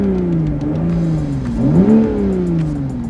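Turbocharged 3.0-litre engine of a 2022 Toyota Supra GR, a 340 hp sports car, revving loud and close: a steady growling drone that dips, then swells sharply upward in pitch before settling into a sustained roar.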